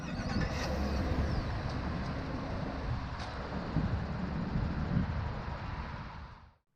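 A 2019 Chevrolet Silverado Custom Trail Boss Double Cab Z71, started by remote, runs with a loud, steady low engine rumble heard close up that holds evenly before cutting off abruptly.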